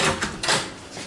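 Hotel room door at the Riu Palace Bonanza Playa in Illetas, Mallorca, opening as people step inside: a few short, close knocks and scrapes of the handle and door in a small room, with no talking.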